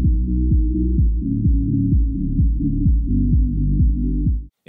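Music heard through only its bass frequencies, a muffled low-end thump with a steady repeating rhythmic pulse and nothing above the low range, playing alone for several seconds before cutting off.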